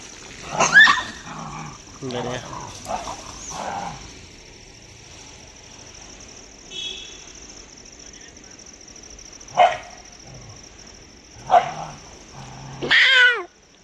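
A human voice imitates cats and dogs, giving growls, barks and meows in short bursts separated by quiet pauses, close and fairly loud.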